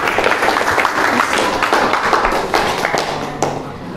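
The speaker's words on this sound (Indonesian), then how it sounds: "beri aplaus untuk Mbak Dalita" Classroom applause for a student named Dalita, a dense patter of many hands clapping together for a few seconds, fairly close and steady, with a faint voice mixed in.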